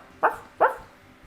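Two sharp, separate barks from a dog, close and fairly loud, with a short gap between them and quiet afterward.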